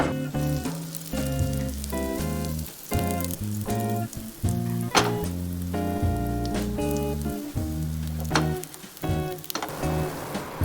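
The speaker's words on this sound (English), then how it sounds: "we have to shallow fry it. So let's take a pan, add some oil into it, and then we will add our breaded eggplants into that one by one." Breaded eggplant slices shallow-fry in a pan of oil, a steady sizzling hiss running under loud, prominent background music throughout.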